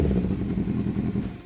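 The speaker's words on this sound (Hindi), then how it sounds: "ये स्टार्ट हुई बाइक।" A Kawasaki Z800 superbike engine runs nearby with a throbbing, burbling loud exhaust, steady and fairly loud for a short moment.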